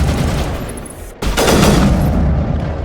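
Gunfire in the Mass Effect Legendary Edition video game, a dense loud burst of rapid shots that cuts out briefly and then resumes as heavy continuous fire.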